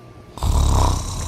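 A person breaks into a loud, rumbling snore that starts abruptly after a quiet moment and holds as one long, close, throaty rasp.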